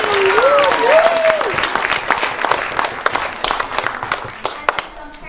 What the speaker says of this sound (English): So let's give a big round of applause to all of those.